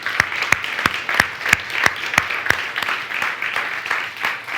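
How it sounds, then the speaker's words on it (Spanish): Rhythmic unison clapping by a church congregation during a worship service, steady evenly spaced claps about three per second over a bed of lighter applause. "Den un aplauso, Señor."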